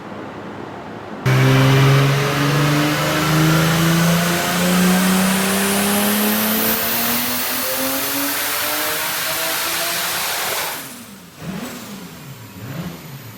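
A turbocharged BMW E36 drift car screams through a long pull on a chassis dyno, revs climbing steadily for about nine seconds before the throttle lifts and the engine winds down with a couple of short blips.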